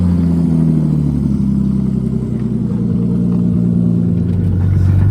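Nissan 240 car engine running under a steady low throttle while driving, a loud close drone with a few faint crackles, sustained with no clear rev rise.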